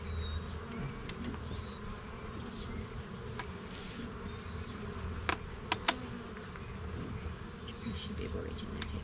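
Honey bees hum in a dense, steady drone during a spring hive inspection, close and continuous, with a few sharp clicks and knocks of handling over it.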